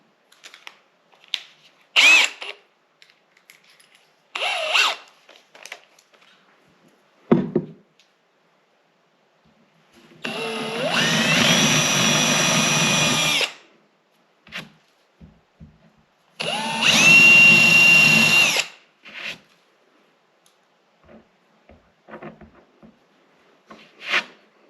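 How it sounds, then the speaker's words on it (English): A power drill bores into wood with two sustained whirring runs of about three seconds each. Shorter clicks and handling knocks from the tools come between them. "I'm just going to drill with the bit that's just big enough so that when it goes into the wood"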